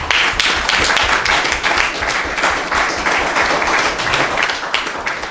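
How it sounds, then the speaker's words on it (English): Audience clapping steadily and loudly for the Black Stars national football team at a Ghana Football Association launch event, a dense continuous round of applause with a few faint voices underneath. "Let's clap for the Black Stars."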